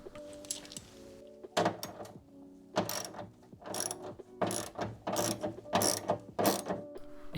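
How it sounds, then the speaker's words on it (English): A ratchet works an 8mm retaining nut inside the trunk of a W203 Mercedes C-Class, sounding as a close series of rapid clicking bursts with short pauses between them. "The first step to remove the plate trim is to remove the 8mm retaining nut inside the trunk."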